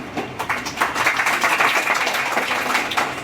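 Applause at an award ceremony honouring top BSTC and PTET students, a dense crowd clapping steadily and fairly loudly for about three seconds with no voices over it.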